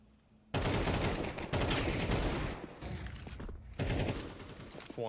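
AK rifles and other guns firing in a competitive shooter video game match, dense rapid bursts of automatic gunfire layered into loud continuous fusillades with short gaps between volleys.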